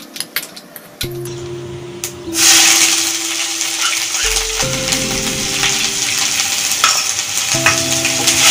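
Crushed garlic and a small piece of ginger drop into hot oil for a dried prawn roast, bursting into a loud, close, steady sizzle after a few quiet clatters and holding strong to the end.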